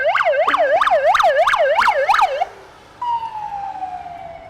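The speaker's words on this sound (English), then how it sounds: "Sirens are just normal around here" Emergency vehicle sirens wail loudly in the street, a rapid rising-and-falling yelp cycling several times, then a brief pause before a sustained wail resumes and slowly fades.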